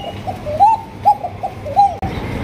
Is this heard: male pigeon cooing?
yes